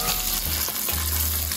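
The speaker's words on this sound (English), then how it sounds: "I'm gonna let these sizzle on each side for a little bit." Steady, crackling sizzle of short ribs searing in a hot Dutch oven, close and loud, with a constant hiss throughout.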